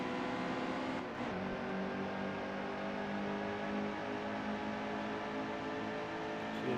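A stock car from NASCAR Heat 2 roars off a restart with a steady, loud engine drone that climbs slightly in pitch as it pulls away, with no other sounds over it.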